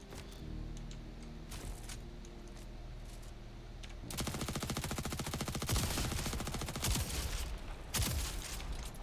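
Automatic weapons blaze in the space video game Jump Ship, scattered single shots giving way to a long, rapid, loud burst of sustained fire over a steady mechanical hum.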